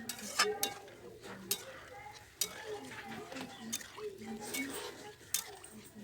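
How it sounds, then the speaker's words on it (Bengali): Prawn malai curry is stirred gently in a pan as milk goes in, with soft wet squelches, sloshing liquid and sharp metal clinks of a spoon against the pan. "হালকা করে নাড়িয়ে দেবো"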